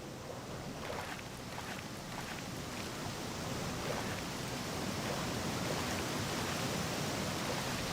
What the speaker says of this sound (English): Why does the waterfall get louder the further away I get?